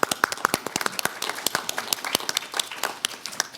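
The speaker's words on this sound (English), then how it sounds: "Let's give him a round of applause." An audience at a talk on racial equity and infrastructure breaks into a round of applause, dense overlapping claps from many people, steady and moderately loud for several seconds with no talking.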